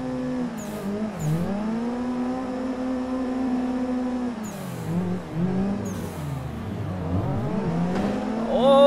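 Car drifting in a racing game played with a 900-degree steering wheel, following other 240-series cars in a tandem: a steady revving engine note that rises and falls, with brief tire screeches and throttle blips, close and continuous.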